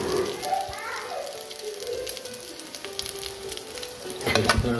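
French toast fries in a hot pan, giving a steady close crackling sizzle throughout, with a brief voice-like murmur early on and a louder burst of crackle near the end.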